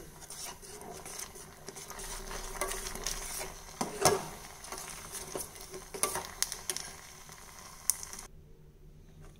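Thick rice porridge baby food cooking on a stove while being stirred, with uneven rubbing and scraping of the spoon against the pot, a sticky squelch and a faint sizzle, no voices.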